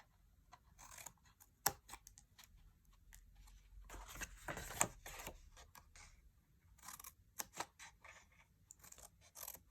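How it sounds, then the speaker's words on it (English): Craft snips clip edges off a donkey treat holder piece in a series of short, sharp snips spaced irregularly, close and fairly quiet, with light handling noises between cuts. "I'm going to use my snips to cut these edges off"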